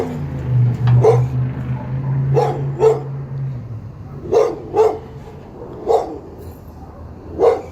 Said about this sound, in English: I apologize for the dog, guys.